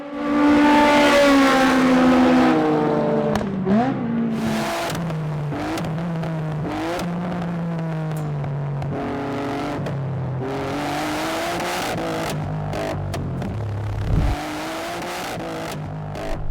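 Race car engine at Tsukuba circuit during a time attack, loud and close from onboard, revving hard through a gear change from second to third before the engine blows and the note drops to a lower, rougher drone with sputters.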